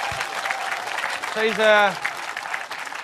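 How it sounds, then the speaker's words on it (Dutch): A village event audience claps in a steady wash of applause, with a brief voice and a whistle-like tone rising over the clapping midway. "Even een applaus iedereen."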